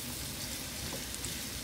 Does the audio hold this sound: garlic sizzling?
yes